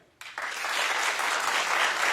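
Studio audience on a daytime talk show breaks into applause after a brief quiet start, swelling quickly into dense, sustained clapping that fills the room.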